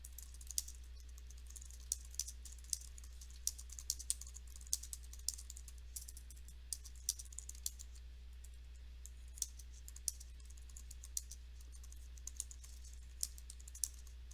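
Quick, uneven keystrokes tap on a computer keyboard as notes are typed into a program, faint clicks over a low steady hum, with no voices.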